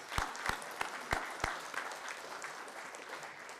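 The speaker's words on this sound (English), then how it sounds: "You can clap." A meeting audience claps to congratulate a newly approved member: a few sharp, distinct claps at the start give way to a soft, sustained patter of scattered applause, fairly quiet and with no talking over it.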